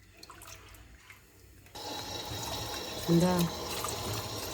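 Tap water running into a bowl of dough, a steady filling rush that starts partway through, with a short spoken reply and kitchen voices around it.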